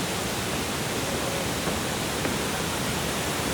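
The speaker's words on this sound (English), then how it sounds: "But the waterfall, I reckon, from this bridge is going to be insane." A jungle waterfall in Banlung, Ratanakiri, heard from a suspension bridge, a steady, full broadband rush of falling water with no break and no voices.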